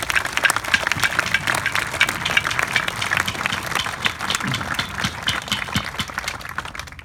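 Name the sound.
crowd applause at Australia Day smoking ceremony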